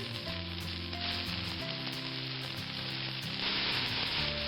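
Beef sears in peanut oil in a pan, giving a continuous bright sizzle at moderate level with low tonal hum underneath and no voices.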